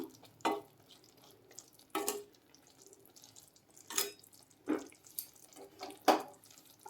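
Sweet boondi being tapped and stirred in sugar syrup, with about six sharp, separate clinks and scrapes of a utensil against the pan at irregular intervals over a quiet background.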